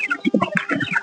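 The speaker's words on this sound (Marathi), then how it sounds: "तर बघा कशा पद्धतीने आपल्या कोंबड्या ज्या आहे त्या खाद्य खातायत." Village free-range chickens cluck in short, uneven bursts while pecking at feed, close by and fairly loud, with no voices over them.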